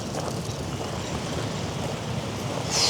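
Strong spring snowstorm wind in Toronto roars steadily across the microphone with a low, blustery rumble, swelling louder right at the end.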